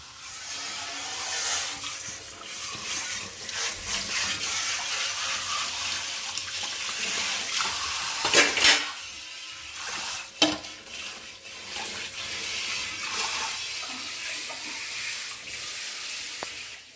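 Dishes being washed under a running kitchen tap during festival cooking, a steady broad water rush with clinks and two sharper knocks of pots partway through, fairly close and with no talking.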